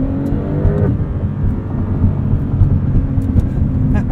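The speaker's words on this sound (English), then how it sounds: "While we're here, let's do a launch control." A 2021 Porsche 911 Turbo S with its flat-six engine makes a launch-control start, heard from inside the cabin as a loud, sustained low engine roar that holds steady through the run.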